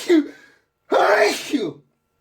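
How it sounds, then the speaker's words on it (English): A short inhale is followed by a loud, close sneeze, with no other sound around it. "I'm going to sneeze, sorry."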